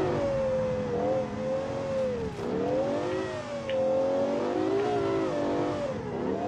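An LS12-powered supercar built in Automation accelerates in sport mode on a handling circuit in BeamNG.Drive, its engine note climbing and dipping through gear changes as it revs hard, sustained and close with no talking.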